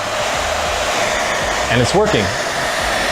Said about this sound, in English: This is the same 1200 watt hair dryer.